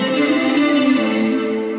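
An electric guitar chord sustains through a Cornerstone Nucleo pedal with its chorus set to maximum, giving a thick, shimmering, swirling wash that holds steadily and slowly fades.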